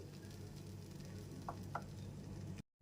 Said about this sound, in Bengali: গ্যাসের ফ্লেমটা একদম লোতে রেখে ক্রমাগত এরকমভাবে নেড়ে যেতে হবে